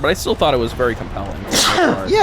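A single sharp sneeze bursts out in the middle of a casual conversation, close and loud, with voices talking before and after it.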